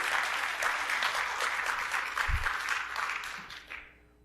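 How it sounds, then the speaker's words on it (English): A conference audience at Meet Magento Florida 2023 gives a fairly quiet round of applause that holds steady and then tapers off to a few last claps. "Round of applause for you."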